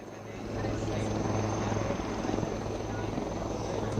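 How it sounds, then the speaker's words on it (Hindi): An LCH Prachand attack helicopter lands at Jodhpur airbase, its steady loud rotor drone and turbine whine filling the whole stretch with a constant low hum that barely changes. "इस हेलीकॉप्टर में सवार होकर उन्होंने उड़ान भरी और अब उनकी लैंडिंग की तस्वीरें"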